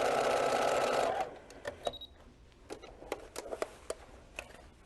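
After a steady whirring run, a sewing machine stitching around the curve of a quilt valance gives way to a string of sharp clicks and taps, close and without speech.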